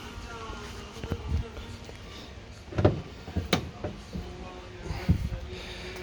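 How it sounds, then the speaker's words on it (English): Doors of a turbocharged second-generation Toyota MR2 with about 50,000 miles close with several crisp, solid thuds and clicks at close range, with a person talking around them. "Listen to this crisp door."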